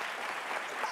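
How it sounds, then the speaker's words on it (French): Brief burst of audience applause on a French television show, a dense, even patter of many hands heard alone. "Applaudissements pour le Bana C4, mesdames."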